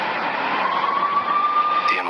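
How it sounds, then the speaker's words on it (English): Police sirens wail steadily in the Max Payne video game, a continuous rising tone sustained throughout under a narrating voice. "I could hear the sirens."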